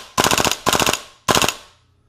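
Custom WE MK18 MOD 1 airsoft rifle fires on full auto in three loud, close bursts of about five to six rapid cracks each, with brief pauses between and a fading tail after the last.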